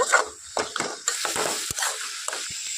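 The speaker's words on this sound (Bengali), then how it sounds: "বেগুনগুলো দিয়ে খুব ভালোভাবে আমি এইভাবে নাড়াচাড়া করে নেব" Eggplants being stirred in a pan for bharta give soft scraping and light sizzling bursts with a few sharp utensil taps, close and fairly quiet, with no voice.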